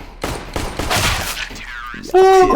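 Rapid bursts of gunfire in the shooter game CS:GO crackle loudly in quick succession, followed by a sharp tonal game sound, with a player's voice partly over it.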